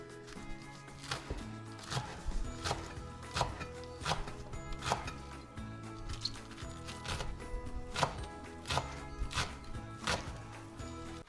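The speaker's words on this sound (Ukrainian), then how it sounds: "Зелену цибульку наріжемо дрібненько." A knife chops green onions finely on a cutting board, crisp regular strikes repeating about twice a second, close and clear.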